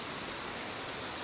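Steady rain falls in an even, dense hiss with no breaks, close and loud, with no voices over it.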